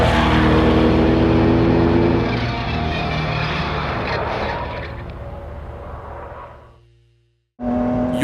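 GT sports car engine roaring loudly alone, holding a strong rev before the sound gradually tapers, fades to near silence, then abruptly kicks back in with a fresh burst.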